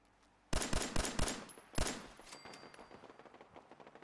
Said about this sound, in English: the turrets are engaging him